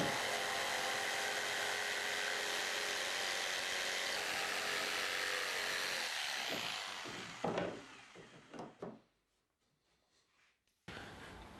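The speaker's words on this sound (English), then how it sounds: "mark these underneath and then trim them roughly to size of the jigsaw" A jigsaw cuts through wooden shed cladding in a steady, loud, buzzing run for several seconds. The blade then stops and a few short bursts and knocks follow before quiet.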